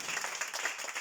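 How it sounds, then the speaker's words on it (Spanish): A brief burst of audience applause, many hands clapping in a dense, steady patter at moderate volume. "Denle un aplauso."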